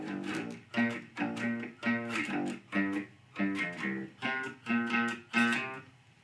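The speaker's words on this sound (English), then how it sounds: "now we're going to talk about the pre-chorus, and the pre-chorus sounds like this" Bass guitar plays the pre-chorus of a song, a steady run of distorted, effects-laden notes in rhythmic repeated bursts, close and fairly loud with no voices.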